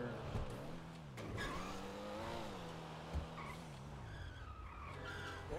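Porsche skidding in a video game, with long wavering tire squeals and engine tones rising and falling over several seconds, fairly faint, with a few sharp knocks.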